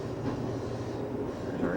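Amtrak passenger train hauled by Southern Pacific engines, running on rails east of Colfax, California toward Donner Pass, with ten cars plus a baggage car; a steady, close rumble and rattle of rolling stock, with faint voices mixed in.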